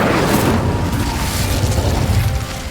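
Fiery blast of the Incendio spell in Hogwarts Legacy, a loud, dense burst of roaring noise that holds for a few seconds before easing off slightly at the end.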